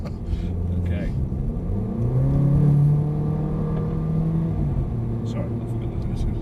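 A Mercedes-AMG A45 engine rises under full throttle on a driving-tuition track, a steady rumbling drone that climbs in pitch through the middle and then holds, with a voice speaking over it inside the car.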